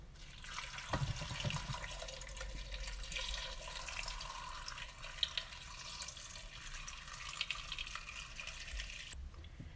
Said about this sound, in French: Je vais mettre de l'eau.